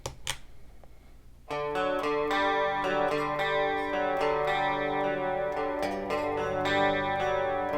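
An electric guitar played through the chorus effect of a Rockman X100 pedal rings out in loud, sustained chords and picked notes after a quiet opening, shimmering and continuous.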